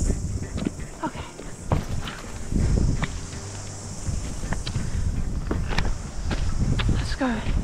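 Footsteps of people walking outdoors along a mosquito-filled trail while gold prospecting, soft irregular crunching steps close by, with wind, insects and occasional voices talking.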